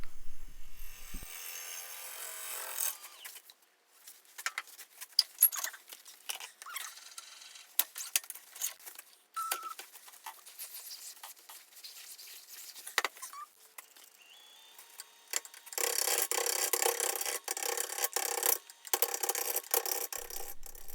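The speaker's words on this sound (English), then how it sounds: "This is a negative rake scraper, so I'm not actually shear scraping here." Negative rake scraper cutting a spinning box elder blank on a woodturning lathe, producing scratchy, uneven scraping with sharp ticks, a steadier and brighter hiss of tool contact near the end, close up.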